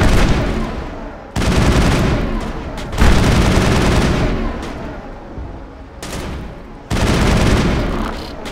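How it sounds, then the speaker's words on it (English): Assault rifle fire in Mass Effect comes in loud, dense bursts of rapid shots with short pauses between them, the sustained volleys close and harsh. "I haven't tried this assault rifle yet."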